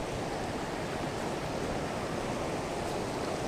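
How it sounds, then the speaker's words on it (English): Stream water rushes over a trail crossing on the Appalachian Trail, a steady, even broadband rush with no breaks. "Looks like it's a little bit of a water crossing,"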